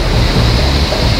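Water rushes loudly and up close from a mountain stream and waterfall during a trek in Nepal, a steady broadband roar with no break.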